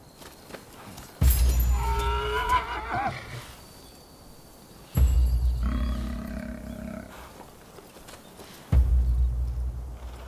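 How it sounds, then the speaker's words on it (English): A horse attacking a man in the video game Rise of the Ronin, three loud separate bursts of neighing and roaring, each about two seconds long and evenly spaced, with quieter gaps between them. "Oh, that horse is eating that man!"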